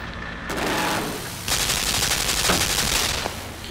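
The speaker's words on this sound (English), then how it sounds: "Now we have again the machine gun." Machine gun fire in the Limbo video game runs as loud, sustained rattling bursts, a brief pause and then a longer continuous stream, heard up close without any talk.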